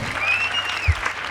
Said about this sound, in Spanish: Y el aplauso, claro que sí